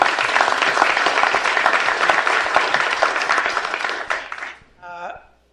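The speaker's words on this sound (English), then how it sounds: "Round of applause." A room full of people at an environmental policy event gives sustained applause, steady and fairly loud, then fades out as a speaking voice begins briefly at the end.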